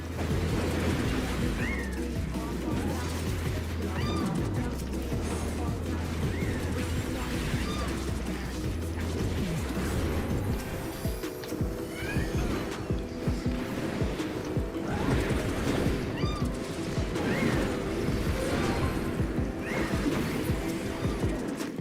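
A cat meows repeatedly in a video game, the calls recurring among a dense, continuous mix of game sounds and a low steady hum, moderately loud throughout.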